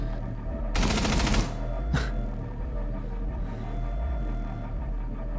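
A sustained burst of rapid automatic gunfire rips through a mattress in the Rainbow Six Siege video game, followed by one sharp single shot, then low in-game ambience with a steady hum.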